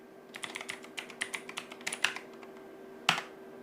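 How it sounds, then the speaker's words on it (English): Quick irregular taps of typing on a computer keyboard, close and fairly quiet, ending with one louder key strike. "what if I typed in a new name?"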